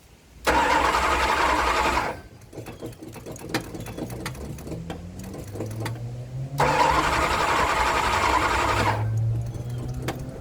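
A hard-starting car engine cranks in two loud bursts of rapid whirring without catching, with a quieter stretch between them holding a rising whine and faint clicks.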